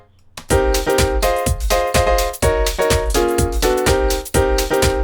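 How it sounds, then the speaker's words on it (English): A classic house piano chord sample built in Logic Pro X's Alchemy synth plays bright, percussive stabs in a repeating syncopated rhythm with a deep bass note under each hit, loud and up front with no voices. "and that is the sound of classic house piano."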